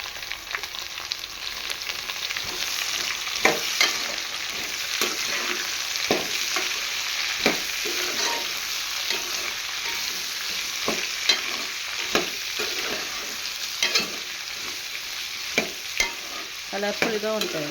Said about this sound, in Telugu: ఇప్పుడు ఇందులో మనం క్యాప్సికమ్ వేసుకుందాం.